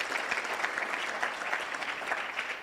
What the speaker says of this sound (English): Let's clap hands once more for him.